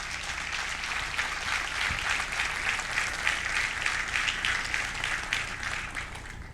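A church congregation claps for a sustained stretch during a sermon, a dense, continuous patter of many hands filling the room at moderate loudness, with a brief low thump near the middle.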